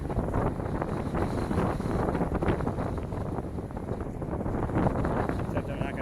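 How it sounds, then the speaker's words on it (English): Strong wind buffets the microphone on an evening walk along a city street, a loud, steady rumbling roar that fills the whole clip without letup. "the wind's quite formidable at the moment"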